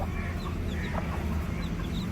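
A hen dust-bathing in soil with her day-old chicks clucks softly, with faint high peeps from the chicks scattered over steady outdoor background noise.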